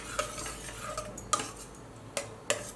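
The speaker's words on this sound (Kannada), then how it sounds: "ಮಿಕ್ಸ್ ಮಾಡ್ಕೊಂಬಿಡೋಣ ಒಂದ್ಸರಿ." A spoon stirs cooked navane (foxtail millet) bisibelebath with dal in a metal pot, giving quiet scraping and a few sharp clinks against the rim, close and unhurried, with no talking.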